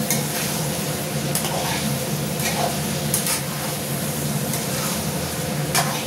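Chicken stirred in a hot pan for a home lunch thali, with a steady sizzle of frying throughout and intermittent scraping clatter from the stirring utensil. No one speaks.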